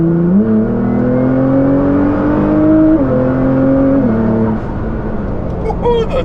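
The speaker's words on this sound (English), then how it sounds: "now we're gonna see how loud we can get it, and we're gonna do the wide open throttle pull." A Nissan GTR fitted with Boost Logic midpipes makes a wide open throttle pull, loud and close, its engine note climbing steadily through the gears with brief dips at each shift and a blow-off valve hiss at the end.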